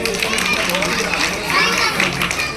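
Schoolchildren at a Republic Day celebration in a Haridwar primary school clap loudly together, a dense continuous burst of close applause with voices mixed in.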